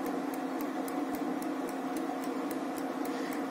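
Princess 112754 electric convection countertop oven running, a steady low fan hum and hiss with faint regular ticking clicks roughly every quarter second, quiet and continuous with no talk.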